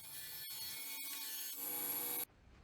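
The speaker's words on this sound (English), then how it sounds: "I've got 2 different widths of boards that I'm milling here" Wooden boards for a steamer trunk tray are milled with a power tool, giving a loud continuous whine and rasp with brief dips between passes before cutting off near the end.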